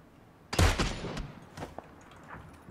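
Gunfire in the battle royale game PUBG Battlegrounds, a sharp close shot followed by a few fainter distant reports, scattered over a quiet background.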